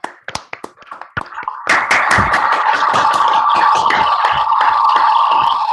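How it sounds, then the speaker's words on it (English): Audience applause closing a plenary talk at an academic mathematics workshop: a few scattered individual claps at first, then the room joins in with steady, fairly close clapping that carries on to the end. "Let's all give Carlos a warm round of applause."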